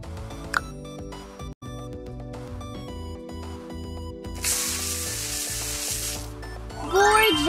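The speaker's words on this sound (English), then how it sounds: "Stir the jelly powder to be thick." In a mobile cooking game, jelly powder is stirred until thick: a steady sizzling, stirring hiss runs under game music, getting denser near the end, with a rising chime at the finish.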